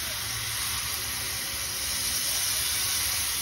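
Rice water boils in a cooking pot before vegetables go in, a steady broadband hiss and bubbling rush that stays loud and even from start to finish.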